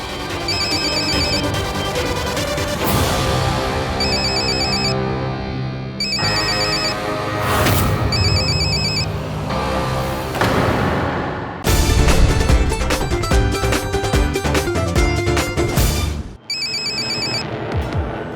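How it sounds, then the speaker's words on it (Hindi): A mobile phone ringtone plays loudly and continuously as a melodic, repeating electronic tune with bright chiming notes, running throughout with no talk over it. "तेरा फोन बज रहा है क्या?"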